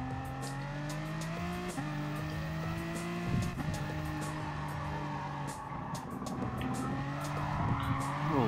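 A race car in Gran Turismo Sport oversteering through corners: a loud, continuous engine drone whose pitch steps up and down through gear changes, with tire squeal and skidding layered over it.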